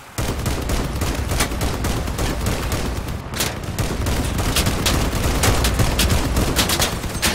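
Dense, continuous rapid gunfire with sharp cracks and booms, loud and sustained throughout, from a chaotic battle in the vehicle shooter game Crossout, with miniguns and 100mm cannons, no voices.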